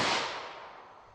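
A 9mm Taurus G2C pistol with a 3.2-inch barrel firing Speer Gold Dot ammunition: one sharp, loud shot at the very start, its echo and ringing trailing off over about a second with no talk.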